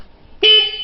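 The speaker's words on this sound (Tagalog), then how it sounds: "Pakinggan natin ang ating busina." A vehicle horn gives one short, loud, bright honk that starts abruptly and holds briefly after a quiet moment.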